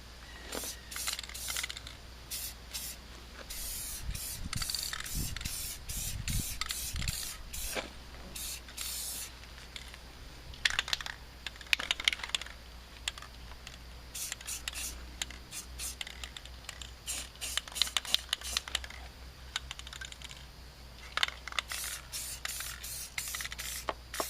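Exo Rust paint and primer being sprayed onto the lower panels of a van in repeated short hissing bursts, close and fairly loud, with brief pauses between passes.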